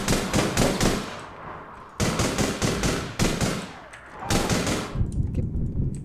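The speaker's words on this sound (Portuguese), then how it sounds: "É tipo uma sniper, só que ela é de 3 tiros, de rajada, né?" Three-round burst sniper rifle fire in the APB Reloaded shooter game, several loud rapid volleys of sharp cracks separated by brief pauses, with no talk over them.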